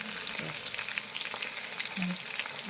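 Chicken pieces frying in a pan for a chicken chana dish, a steady close sizzle with light scraping touches and no talking.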